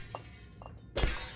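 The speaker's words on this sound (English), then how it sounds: "we're here still in our glass cage, but we can punch our way out now." In the Fallout London game, a glass cage is punched: two soft thumps land first, then a loud, sudden crash of shattering glass rings out alone.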